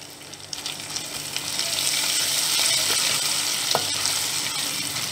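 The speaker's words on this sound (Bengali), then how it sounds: "এরপরে আমি আদা বাটাটা দিয়ে দেব। এটাকে একটু নেড়ে নেব।" Ginger paste frying in a pan for a banana-blossom curry, a steady broadband sizzle that swells and holds loud while a utensil stirs it, with a few sharp scrapes near the end; no one speaks.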